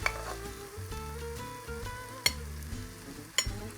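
Kangaroo meat stir-fried in a pan, a steady close sizzle with stirring scrapes and a couple of sharp utensil clanks against the pan.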